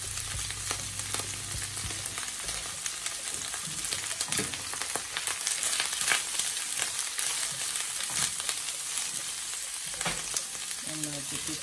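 Onions frying in a pan for a quick breakfast, a steady, dense sizzle and crackle that runs loud and close throughout, with occasional stirring scrapes and no talking.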